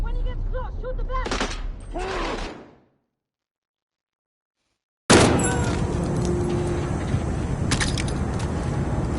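Heavy gunfire from the Modern Warfare video game campaign bursts in loud and dense after a short silence, following earlier busy game sounds and a stretch of quiet.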